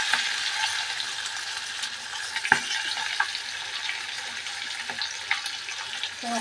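Bay leaves and chopped onions frying in hot oil in a pan while a lentil dal with egg is being made, a continuous close sizzle with occasional stirring scrapes and no talking.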